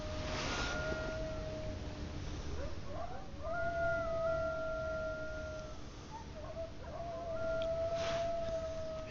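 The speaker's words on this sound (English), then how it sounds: "If you can hear that, those are the coyotes." Coyotes howling in the distance outdoors: several long, wavering howls rise and fall across the stretch, with pauses between them, over a steady background hiss.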